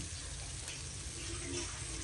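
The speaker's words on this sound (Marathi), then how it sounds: "आणि आता ही पाटीतलं पण पाणी धुवून त्याच्यात घालायचं आहे।" Rinse water for a turmeric-free kadhi is poured into the pot, a faint steady gush of running liquid lasting about two seconds with no voices.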